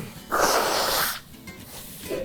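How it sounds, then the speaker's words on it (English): One forceful, hissing nose blow lasting about a second, up close, followed by quiet breathing. "I'm gonna blow my nose while you look at these wings."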